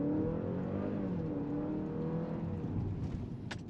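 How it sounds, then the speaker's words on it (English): A 2023 Honda Accord Sport L Hybrid pulls away from a stop, its hybrid powertrain giving a steady rising whir and engine drone heard from inside the cabin, fairly even in level with a short high click near the end. "we're gonna do a quick acceleration from stop"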